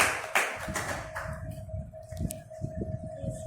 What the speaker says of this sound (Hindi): इसके लिए तालियां बजाएं।